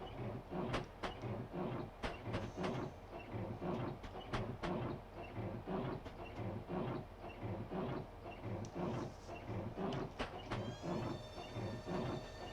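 London–Faversham high-speed train running at night, heard from the cab: continuous rumbling rail noise with steady rhythmic clacks and thumps over the track joints, close and loud throughout, with a thin whine rising near the end.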